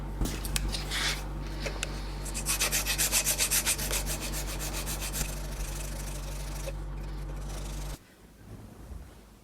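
Hand sanding of a thin white celluloid pearloid sheet about 1 mm thick, shaped for a guitar headstock, gives a steady close scratchy rubbing with a run of rhythmic back-and-forth strokes, then stops abruptly near the end.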